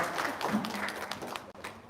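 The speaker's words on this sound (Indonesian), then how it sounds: "Yuk tepuk tangan dong." An audience at an Indonesian religious talk breaks into applause, a steady wash of clapping with a brief voice near the start.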